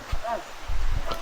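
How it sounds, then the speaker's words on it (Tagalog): Heavy summer rain falls steadily at a roadside shop where motorcycle riders shelter during a ride in Aurora, a broad, continuous hiss with a few louder low thumps and voices talking over it. "Lakas ng ulan."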